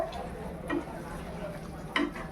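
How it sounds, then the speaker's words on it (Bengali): Chicken sautéing in ghee and oil in a pan, a soft continuous sizzle broken by two brief stirring scrapes of a utensil, close and fairly quiet. "এবার এই ঘি আর তেলের মধ্যে চিকেনটাকে ভালো করে এখন কষতে হবে।"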